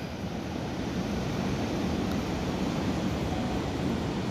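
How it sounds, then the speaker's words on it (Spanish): Ocean surf heard from a coastal lookout about 150 meters above the sea in El Salvador, a steady distant wash of waves blended with wind rumble, no voices. "Ahí están las olas."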